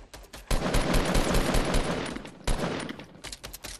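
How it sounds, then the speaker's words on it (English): SCAR assault rifle gunfire in Fortnite rattles out in two rapid automatic bursts, loud and close, with a brief pause between them and no talking. "I'm being shot by a scar."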